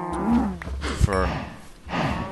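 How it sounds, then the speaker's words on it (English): Cows in the video game Minecraft moo in a few drawn-out, moderately loud calls, one after another, with a voice talking briefly between them. "I've actually been feeding these cows a lot recently"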